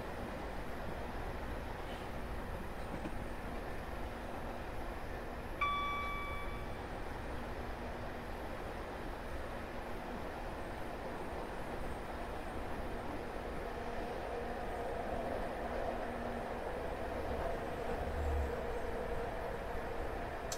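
Steady low rumble of a train running on the North Wales Coast Line between Chester and Holyhead in a train simulator, continuous and fairly quiet with a brief high tone near the middle.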